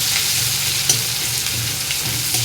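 Onions fry in a pan of hot oil, giving off a loud, steady, dense sizzle with a couple of faint utensil clicks and no talking.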